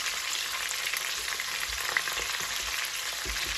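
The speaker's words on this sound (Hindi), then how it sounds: "ये अब इसमें योगर्ट डालेंगे, तकरीबन 4-5 स्पून डाल दो" Masala for peas pulao fries in a pot as yogurt is added, giving a steady, close hiss of sizzling oil with a few soft low thumps and no voices.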